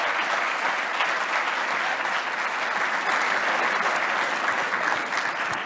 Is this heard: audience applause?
yes